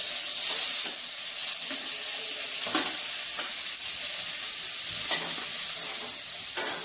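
Chopped onion sautéing in hot oil with green chillies for kanda pohe, a steady close sizzle with occasional stirring scrapes and clinks, no talking.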